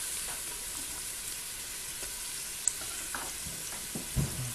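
Onions frying in a pot for a seafood soup, giving a steady, fairly quiet sizzle with a few soft clinks and stirring sounds near the end, no voices.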